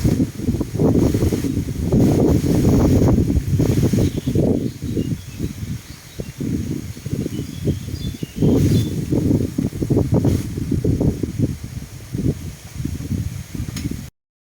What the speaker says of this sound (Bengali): প্রচন্ড বাতাস, এগুলো সব ভাইঙ্গা হাইলে পড়ে গেছে।